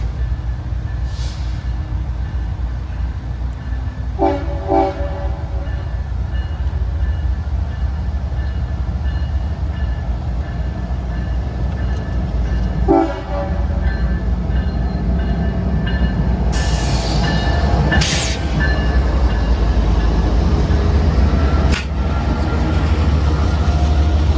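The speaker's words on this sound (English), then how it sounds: "here's when CSXT M453 approached us down at the station" A CSXT M453 freight train draws into a station at Lakeland, a steady rumble of rolling cars with a few sharp squeals and brake hisses breaking through near the end.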